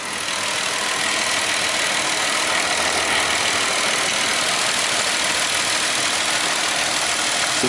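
A Hyundai car engine idles with an even, continuous hum and faint mechanical chatter, close and steady throughout with no voices.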